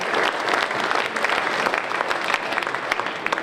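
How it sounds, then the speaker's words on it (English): A conference crowd at a Florida American Legion fall meeting breaks into applause, a thick continuous wash of many hands clapping, fairly loud and close, with a few sharper claps poking through. "Let's give a big round of applause for Bob"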